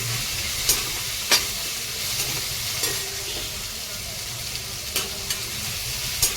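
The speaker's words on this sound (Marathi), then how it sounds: "कांदा टमाटर हे आहे अद्रक आणि लसूण हे पण छान आपल्याला भाजून घ्यायचं आता त्याच्यामध्ये मसाला छान भाजतोय" Onion, tomato, ginger and garlic masala frying in a pan, a steady soft sizzle with occasional sharp clicks of stirring, moderately close and alone without talk.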